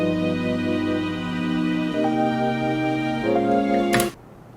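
R&B music with Rhodes piano, soulful stacked vocals, a detuned synth and strings, sustained harmonic chords changing every couple of seconds, full and close, ending in a bright swell and a sudden drop.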